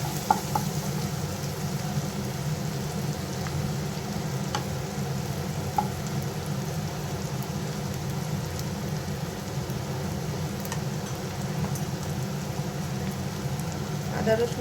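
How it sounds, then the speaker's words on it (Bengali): Chopped onions fry in a pan with cumin powder, giving a steady, close sizzle and crackle with a few light clinks and stirring scrapes over a low hum from the stove. "একটু ভাজতে দিলাম।"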